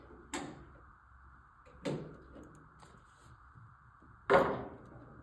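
A door latch pushed back with a shove knife during a forcible entry drill, then the door swung open: three sharp metallic clicks and knocks spaced a second or two apart, fairly close, with a faint steady hum beneath.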